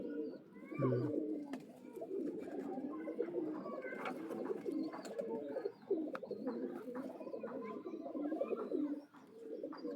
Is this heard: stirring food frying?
no